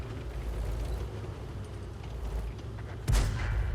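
A tank gun on an M10 Wolverine fires in a video game: low rumbling engine noise, then one sharp, loud boom near the end.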